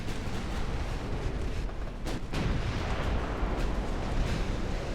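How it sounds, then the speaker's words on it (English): Torpedo explosions strike a ship in a naval dreadnought battle game, a dense, continuous roar of heavy booms and rumbling blasts with one brief dip before the barrage resumes. "they're flinging torpedoes at us"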